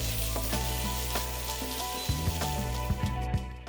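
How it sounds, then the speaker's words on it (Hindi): Soybeans stir-fry over a high gas flame, a steady loud sizzle with a few sharp knocks and scrapes of the pan as they are tossed, no voices. "इसको भी हल्का सा टॉस कर लेंगे हाई फ्लेम पे 30-40 सेकेंड के लिए"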